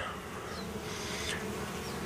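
Honey bees buzz in a steady, dense drone, fairly close and continuous, with no voices.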